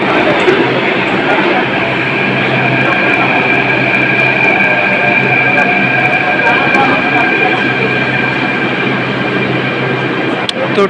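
Loud, continuous roar of a Delhi Metro train in motion, with steady rumble, rail hiss and a constant whine, filling the whole ride from inside a crowded carriage, with voices buried in the noise.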